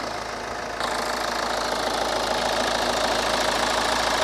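A 2.2-litre chain-driven diesel engine in a 2012 Hyundai Santa Fe idles with a steady clattering knock, close and constant, growing slightly louder after a moment, with no speech.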